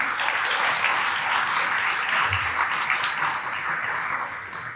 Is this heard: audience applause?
yes